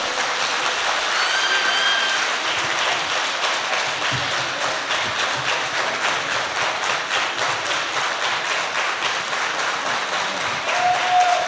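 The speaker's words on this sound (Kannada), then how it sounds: "ನಾಟಕ ನಿಮಗೇನಾದರೂ ಸ್ವಲ್ಪ ಚೆನ್ನಾಗಿದೆ ಅಂದರೆ ನಿಮ್ಮ ಕೈ ಉರಿಯೋರ್ಗೊಂದು ದೊಡ್ಡ ಚಪ್ಪಾಳೆ ಕೊಡಿ." An audience claps for the performers after a Kannada comedy stage drama, a continuous crowd of hands applauding at moderate loudness and holding steady for several seconds, with a few brief whistles or tones poking through.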